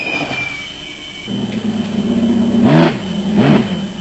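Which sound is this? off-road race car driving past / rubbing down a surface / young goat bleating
off-road race car driving past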